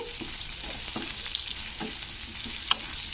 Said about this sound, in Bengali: পেঁয়াজগুলোকে একটু নাড়তে হবে তেলের সঙ্গে